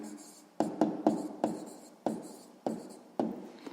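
A pen writes down the answer to a sixth-grade maths exercise on paper, giving a run of about seven quick scratchy strokes in an uneven rhythm, close and fairly quiet.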